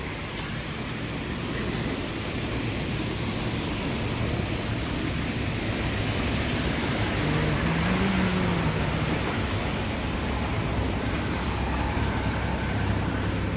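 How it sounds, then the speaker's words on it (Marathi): Steady roadway noise from traffic on the Nagar-Manmad highway beside a flooded nursery after unseasonal rain, a continuous distant rumble and hiss with a slightly louder passing vehicle midway. "आणि इकडं नगर मनमाड हायवे"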